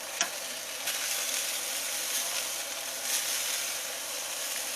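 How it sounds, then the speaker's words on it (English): Spatchcock chicken sizzles on a Commander grill, a steady, close frying hiss that holds evenly throughout, broken by a few faint clicks and no voices. "That is grilling nice."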